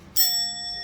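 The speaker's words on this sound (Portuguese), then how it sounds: "você toca o sino, ó, tem um sino desse" Single bright strike of a small hand bell used in a classroom activity, sharp onset followed by a clear sustained ringing tone that slowly decays.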